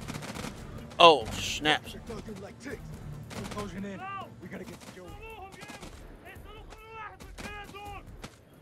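Video game House of Ashes gunfire: a couple of sharp bursts of shots early on, then lingering echoes beneath excited talking that carries on through the rest.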